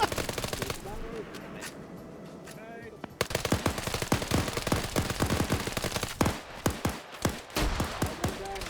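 Bursts of machine-gun fire at helmeted targets in an SCP video game, one short burst followed by a long run of rapid loud shots, with voices talking over the gunfire.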